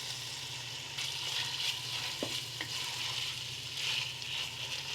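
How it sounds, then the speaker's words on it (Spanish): Longaniza sausage fries in a pot over the heat for esquites, a steady close sizzle running throughout with a few light stirring clicks. "vamos a agregar ya la longaniza y la vamos a llevar a nuestra cacerola, que ya está obviamente al fuego"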